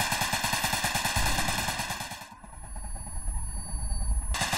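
Rapid automatic gunfire in the Garry's Mod sandbox map gm_construct rattles in tight bursts, cuts out briefly, then resumes over a low engine-like rumble.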